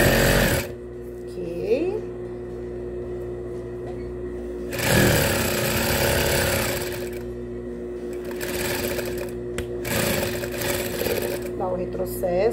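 A domestic sewing machine stitches a floor cloth in loud, close bursts of rapid mechanical whirring, pausing between runs with small clicks and adjustments; a voice speaks in the gaps.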